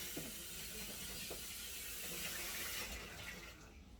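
Tap water runs steadily into and over a spice bottle as it is rinsed out at a sink, a continuous close hiss of flowing water with faint rattles of the bottle.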